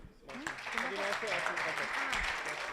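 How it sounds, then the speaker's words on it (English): Audience applause at a startup weekend pitch evening, a dense wash of clapping that swells in after a brief quiet start and carries on steadily, with voices talking over it. "without further ado, a nice round of applause for Dirk."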